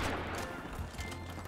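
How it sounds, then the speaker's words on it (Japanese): Gunfire from a .44 Magnum revolver in the Modern Warfare Remastered video game, a loud sustained burst of shots with a booming low end. "とにかく銃声かっこいい"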